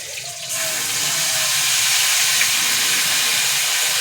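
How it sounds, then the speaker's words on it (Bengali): A steady, loud sizzling hiss of ground chili paste frying in hot oil, continuous throughout after a brief quieter start. "লঙ্কাটা ভালো করে ভেজে নেব"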